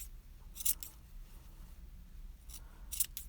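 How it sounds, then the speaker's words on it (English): Scissors snip through crochet yarn while trimming a Santa hat, giving two quiet, crisp cuts close by, separated by near silence. "What a satisfying sound scissors are."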